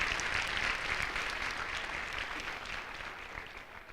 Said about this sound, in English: let's clap for your teachers, too